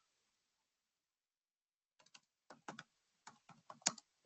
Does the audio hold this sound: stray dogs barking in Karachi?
no